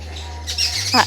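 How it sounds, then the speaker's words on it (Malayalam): A chappalakili bird gives a couple of quick, sharp chirps close by over a low electrical hum, lasting about a second, in a Kerala village. "ഈ കിളീൻ്റെ പേരാണ് ചപ്പലക്കിളി."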